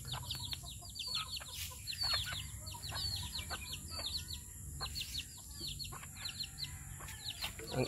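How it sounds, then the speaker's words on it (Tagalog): Chickens on a home flock in a dark enclosure make repeated short clucks and chirps, fairly close, over a steady low background hum. "Ang ibang manok ko, tingnan na kayo guys"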